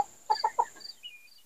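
A bantam chicken gives three quick, close clucks in a short burst, followed by a couple of softer trailing murmurs in a quiet garden setting.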